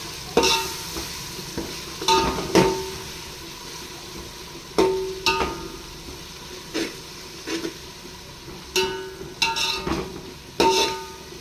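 Ginger-garlic paste and mint being sautéed in a pan over a low gas flame, with a soft steady sizzle and repeated sharp scrapes of a spatula stirring at irregular intervals, close by, with no talking.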